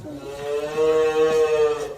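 A baby cow lets out a single drawn-out moo, close and fairly loud, lasting about two seconds with no voices over it.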